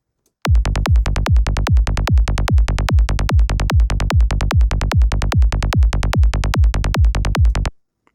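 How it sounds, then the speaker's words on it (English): A fast, steady stream of punchy synthesizer bass notes from the Vital synth in a driving psytrance rhythm, loud and uniform, stopping abruptly after several seconds. "here's an example of a bass straight out of Vital"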